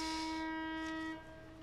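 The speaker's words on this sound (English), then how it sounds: "if you hear honking in the background, that's the ferry that goes back and forth from the land to the island" A ferry horn sounds steadily in the background, carrying across the water between the mainland and an island, a sustained tonal blast that holds for about a second before dropping away.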